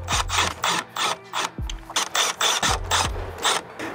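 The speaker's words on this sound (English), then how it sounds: "Put the both screws inside." A screwdriver drives two screws into a USB wall receptacle, making loud, close rasping and grinding strokes that repeat in a steady back-and-forth rhythm, with faint ratchet-like clicks and no talking.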